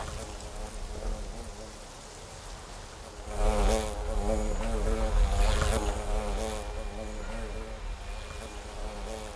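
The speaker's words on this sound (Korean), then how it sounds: "오랜만에 말벌 가족들이 다 함께 모여 골고루 당분을 섭취한다." Hornets buzzing as they cluster to feed on a soft drink, a dense droning hum of many wings close by, rising louder midway and continuing steadily.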